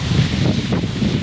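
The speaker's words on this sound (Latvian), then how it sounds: "Un vējš." Steady wind in the Dolomites mountains rushes and buffets the microphone with a constant low roar and no other sounds.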